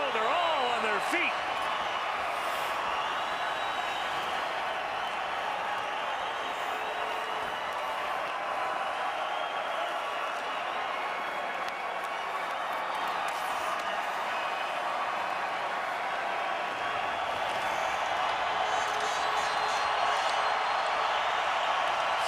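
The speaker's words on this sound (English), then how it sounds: "let's listen to the fans here. With a half a minute to go, they're all on their feet" Hockey crowd at a WHL playoff Game 7 between the Moose Jaw Warriors and Calgary Hitmen, standing and cheering in the final half minute: a dense, sustained roar of arena noise that holds steady throughout.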